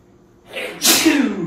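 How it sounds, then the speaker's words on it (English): A man gives a single loud sneeze indoors, a short breathy intake building into a sharp explosive burst that trails off. "I got to sneeze."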